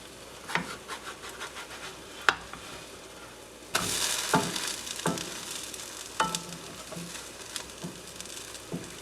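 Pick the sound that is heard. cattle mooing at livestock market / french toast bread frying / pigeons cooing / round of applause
french toast bread frying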